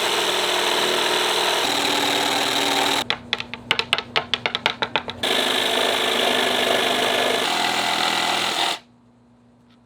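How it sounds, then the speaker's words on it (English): A power tool cuts wood panels for the interior wall of a sailboat under renovation, a loud steady whine broken in the middle by a burst of rapid rhythmic stuttering strokes before it stops abruptly near the end. "I'm cutting out the wood for the panels."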